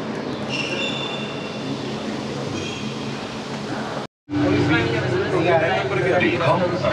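An automated metro train at Zurich Airport carries passengers toward baggage claim, a steady rolling rumble with faint wheel squeal. A brief dropout cuts the sound before it resumes with onboard announcements and talking.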